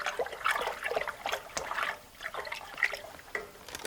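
Cold water is stirred and poured with starch to make a solution for treating a stubborn rope, giving a steady trickling and sloshing with brief splashes over several seconds, close and moderately loud, with no talk.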